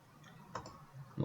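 A few soft computer mouse clicks, quiet and close, with a small tick and a slightly louder click near the end against a faint room background.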